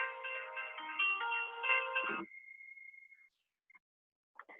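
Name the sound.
mobile phone ringtone during lecture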